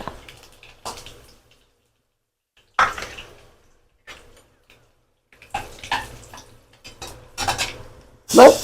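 Mustard seeds, fenugreek and curry leaves sizzling in a pan for garlic thokku, heard as short separate bursts of crackle and hiss with quiet gaps between them and a louder spurt at the end.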